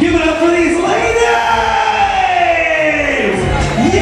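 Loud crowd cheering and whooping for drag performers at a Best in Drag curtain call, a dense roar of voices with shouts rising over it and a host's voice calling over the noise.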